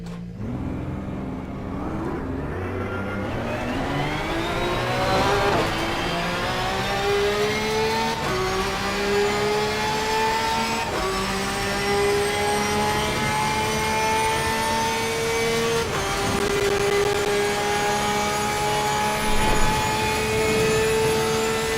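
A Porsche race car engine in Assetto Corsa Competizione revs loud and close, its pitch climbing repeatedly through several gear changes in one continuous, unbroken drone with no voices.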